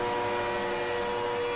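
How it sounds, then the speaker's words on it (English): A westbound BNSF freight auto rack train rolls past in East Dubuque, a steady loud rumble with sustained tonal ringing throughout and no voices. "This is a westbound going through East Dubuque, and a westbound auto rack train."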